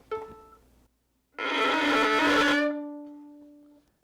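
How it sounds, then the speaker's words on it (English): A violin note played with heavy bow pressure comes out crunchy and scratchy, a loud harsh burst that eases into a thinner sustained tone after a brief plucked note. "If we use bow pressure to pull a sound, the string gets squashed as we play it"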